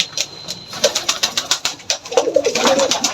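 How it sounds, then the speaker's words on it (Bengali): Jalali pigeons coo in a loft, a series of soft, rhythmic throaty coos repeating close by, with a few overlapping calls and light rustling. "এখানে দেখতেছেন জালালি কবুতর বসে আছে উপর দিয়ে"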